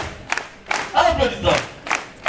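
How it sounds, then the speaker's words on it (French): A church congregation at a French-language praise and worship service claps in short bursts, with scattered cheers and voices mixed into the brief, uneven applause. "Applaudissons."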